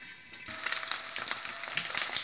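Eggs and onions frying in oil under a lid for an old-style egg and onion stew, giving a dense, continuous sizzle that swells after the first half-second and stays loud and close throughout.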